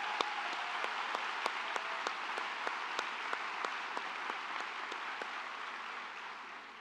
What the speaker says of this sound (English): stand for one last round of applause from your FAU